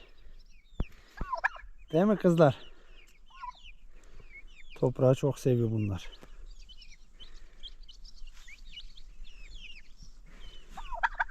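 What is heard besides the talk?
turkeys gobbling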